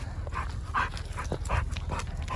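A dog pants quickly and rhythmically close by, short breathy puffs repeating over a low rumbling background.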